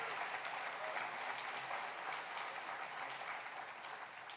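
Airport business conference audience applauding during a general session, a fairly faint, even wash of many hands clapping that fades slightly toward the end.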